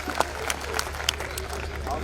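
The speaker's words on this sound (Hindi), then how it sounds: "एक बार आप तालियां बजा दें, मैं कविता शुरू करता हूं।" Audience applause at a Hindi poetry recital on stage: scattered, moderately loud claps over a steady crowd murmur, with no speech over them.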